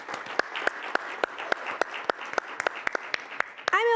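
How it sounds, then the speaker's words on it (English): Light applause at a breakfast plenary on Latino economic growth: scattered, distinct hand claps sound at a moderate distance and grow a little denser toward the end. "Big round of applause."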